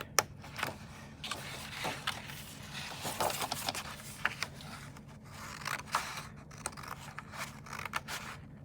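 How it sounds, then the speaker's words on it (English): Scissors cut through paper for an infinity cube art project, a quiet series of irregular snips and rustling paper close by, with brief pauses between cuts. "I cut whole lines and then cut details second"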